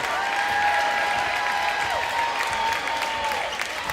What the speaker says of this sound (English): Crowd's up. We're going to have to stand up here. It's loud.